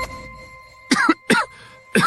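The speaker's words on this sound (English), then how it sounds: "Cough, cough." Three sharp coughs, close and fairly loud, separated by short pauses, with a quiet background between them.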